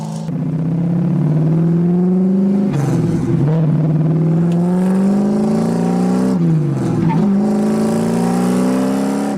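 A yellow Camaro Z28 engine revs loudly and close, its pitch climbing in three sustained pulls separated by brief drops between shifts, with no voices over it.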